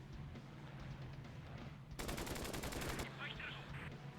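A WWII fighter plane in the arcade game Flying Tigers fires its guns in a loud, dense machine-gun burst lasting about a second, set against a steady engine drone.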